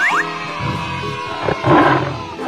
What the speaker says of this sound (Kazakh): Қабылан.